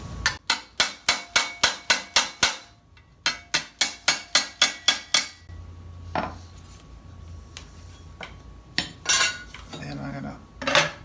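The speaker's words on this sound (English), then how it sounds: "Clean it up here on the anvil." Hammer strikes on a metal armor greave over an anvil, two fast runs of about ten sharp ringing clanks each, then scattered lighter taps and scraping, close and loud.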